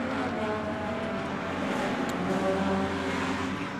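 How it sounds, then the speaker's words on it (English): Race cars at the Ainsley Memorial night race wail on the rev limiter as they head through a turn, a dense, steady engine roar from a distance blending several cars, with no clear talking. "You can hear these cars screaming on the limiter as they head down through turn 1 and 2 again."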